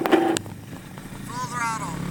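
A Honda XR100R dirt bike engine buzzes and revs at full throttle, its rising whine audible midway through, while someone talks over it, close and fairly loud.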